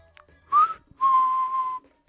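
A person whistles from hiding behind a pillar: two clear tones, a short rising chirp and then a longer held note, close and alone in a quiet space.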